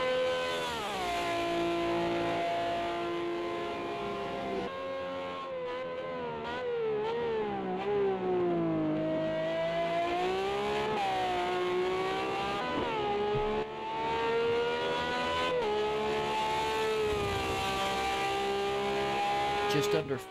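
Ferrari 333SP race cars at Le Mans in a racing video game, an engine drone holding a high, shifting pitch that climbs and dips through gear changes, loud and continuous for the whole stretch.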